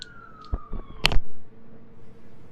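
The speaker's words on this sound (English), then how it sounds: "So I apologize for any sirens that you guys hear" A police siren sweeps through a residential neighborhood, its wail gliding downward and fading, broken by a few sharp clicks and knocks close by, then dying away to quieter background hum.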